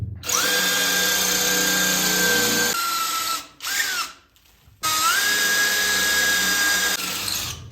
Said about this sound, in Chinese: 这一次我们直接上3角钻头